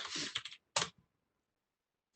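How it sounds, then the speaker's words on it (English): Typing on a computer keyboard: a quick burst of clicky keystrokes, then a short second burst and a single stray tap after a silent pause, close and without talk. "once again, not typing very well."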